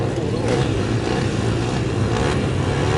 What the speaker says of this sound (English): She's keeping that bike going until working that throttle hard.